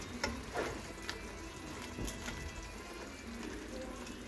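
Tilapia cooks in a sweet and sour sauce bubbling in a pan, giving a soft, steady sizzle with small pops and clinks up close, fairly quiet throughout.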